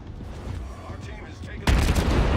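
A naval gun salvo fires from a Baltimore cruiser in World of Warships: a low rumbling backdrop, then a sudden loud, heavy boom that keeps roaring and crackling to the end.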